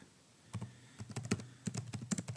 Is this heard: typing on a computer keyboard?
yes